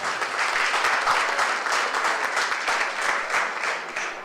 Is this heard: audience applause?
yes